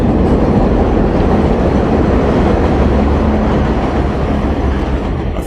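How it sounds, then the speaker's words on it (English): A Brooklyn train rumbles past close by, loud and continuous, with a dense clattering roar of wheels on track and a faint tonal whine that runs throughout, no voices. "And here comes another beautiful train."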